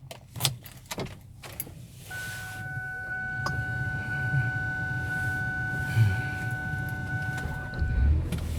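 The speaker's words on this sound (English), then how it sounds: "As you can see, the car also has a working sunroof." Electric sunroof motor of a 2002 Mercury Sable runs in a steady whine for several seconds after a few clicks and thumps, then stops with a soft clunk.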